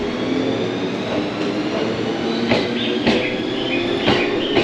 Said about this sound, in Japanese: ただいま松本行きの普通電車が高尾駅を出発していきました